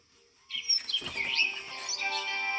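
Birds chirp and trill in bright, overlapping calls, rising in after a quiet start and continuing steadily, with a soft hum underneath.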